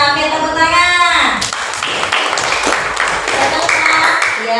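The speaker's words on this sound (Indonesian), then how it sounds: "Oke, tepuk tangan." Clapping from a classroom group during an Islamic religious education lesson, bursting in after a voice and continuing as a brisk, uneven patter of claps for about three seconds, with some voices over it.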